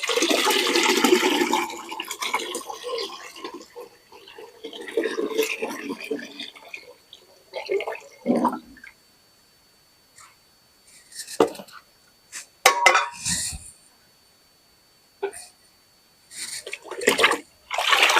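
Water with soaked onion and vegetable scraps is stirred and sloshed in a container, with rushing, splashing bursts early on, then scattered knocks and splashes between pauses.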